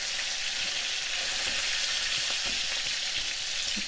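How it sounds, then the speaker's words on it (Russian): Beef steak sizzling and crackling in hot oil, a steady dense hiss with small pops, close up and uninterrupted. "мы переворачиваем наш стейк и продолжаем жарить"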